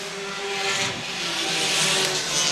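Pure stock race cars roar around the oval at Star Speedway in a busy pack, a loud, continuous engine drone with a sustained tonal whine rising and falling as cars pass.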